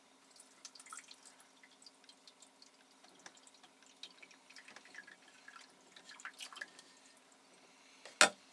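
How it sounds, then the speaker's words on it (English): Faint trickling and dripping water runs quietly into a boat's bilge throughout, with a louder splash near the end. "I can see water is just pouring out the other end into the bilge."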